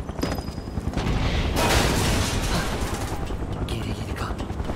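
Rapid bursts of gunfire in Final Fantasy VII Remake, a loud clattering volley that swells in the middle and continues more thinly, with game voices speaking over it.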